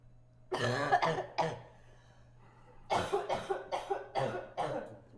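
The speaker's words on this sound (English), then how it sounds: "Turn of the cough. It came back." Two bursts of harsh coughing, a short cluster and then a longer run of several coughs, close and fairly loud, with a quiet gap between them.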